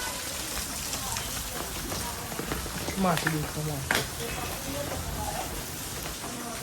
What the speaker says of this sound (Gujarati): વરસાદ તો જોરદાર ચાલુ છે.